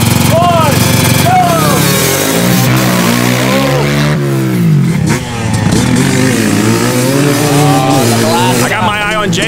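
Cheap midsize quads race around a dirt track. Several engines rev loudly at close range, rising and falling in pitch as they pass, while voices shout over them.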